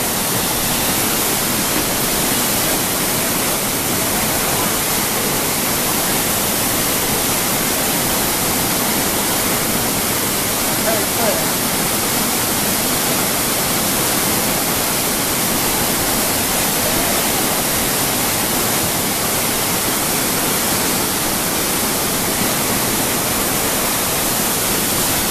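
A waterfall in Rishikesh pours down in a loud, steady, unbroken roar that fills the whole stretch with no talk.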